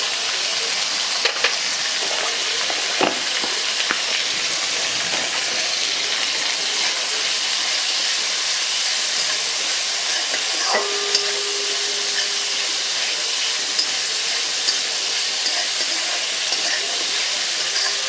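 Jain gravy base of ground ingredients roasting in a pan while being stirred, a steady close hiss and sizzle with occasional scraping taps, without talk.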